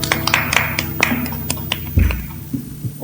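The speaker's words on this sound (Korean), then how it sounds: "우리 주께 박수합시다" A church congregation claps hands in brief, scattered bursts during an afternoon praise service, sharp claps spread over a few seconds amid a low hum and faint background sound.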